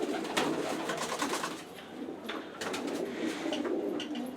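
Pigeons in a loft keep up a dense, overlapping cooing close at hand, mixed with rustles and scratchy movement and no voices.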